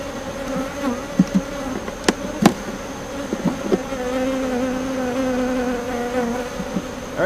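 Honeybees buzz steadily around an open beehive during an early July inspection, a dense close hum with a few sharp knocks and clicks from handling frames and fresh wax comb.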